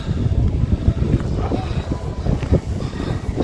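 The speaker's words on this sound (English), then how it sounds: "It's a little windy today" Steady outdoor wind rumbles and buffets the microphone throughout, a low continuous roar with gusty swells and no clear voices.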